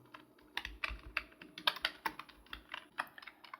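Python code being typed on a computer keyboard, a fairly quiet run of irregular key clicks with uneven rhythm and small bursts, close by and with no voice.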